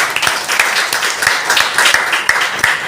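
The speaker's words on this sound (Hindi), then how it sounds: "थैंक यू सर के लिए भी जोरदार ताली होनी चाहिए।" An indoor audience at an investment company's business seminar gives dense, continuous applause, with individual claps popping out of the steady wash of hands.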